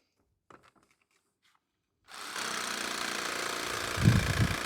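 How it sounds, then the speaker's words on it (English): A jigsaw cutting scrap wood planter boards starts up after a couple of faint taps and runs with a steady buzzing motor drone, growing heavier near the end. "So instead, I cut everything into shorter usable pieces with the jigsaw."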